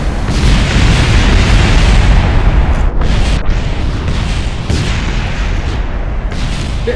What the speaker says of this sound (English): Fires a missile!